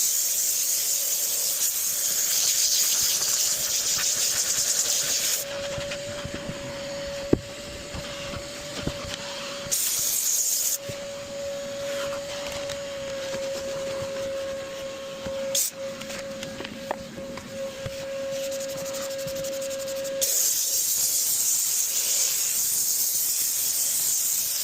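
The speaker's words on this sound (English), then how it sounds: "Give the vents a little steam out." A steam cleaner works on the vents of a mold-contaminated car. It gives a steady high whistle with hissing steam, stopping and starting several times between stretches of broadband rushing noise.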